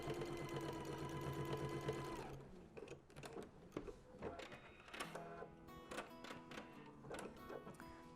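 A sewing machine runs steadily for about two seconds while topstitching with a lengthened stitch, then falls quiet, followed by scattered handling clicks and small mechanical taps.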